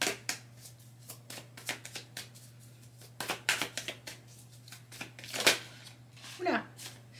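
Tarot cards shuffled by hand at close range for a reading, crisp riffling and slapping bursts in irregular clusters over a low steady hum, with a brief voice near the end.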